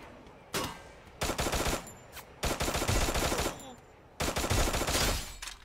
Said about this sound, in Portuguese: Eu gosto quando atira.